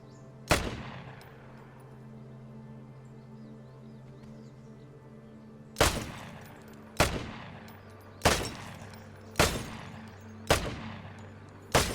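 Gunshots in the Vigor video game ring out as sharp, loud cracks: one at the start, then after a quiet gap a run of five or six evenly spaced reports, each with a decaying tail over a steady low background hum.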